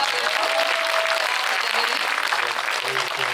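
Continuous audience applause in a cinema during a Busan International Film Festival guest event, broad dense clapping that stays steady and fairly loud from start to finish.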